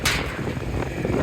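Gusty wind buffets the microphone outdoors in a garden beside a tractor, a loud rushing roar that swells and eases over the short moment with no voices.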